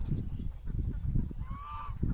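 Ducks on a river in Bangladesh: one drawn-out nasal call rings out in the second half over a constant low rumble of wind and movement.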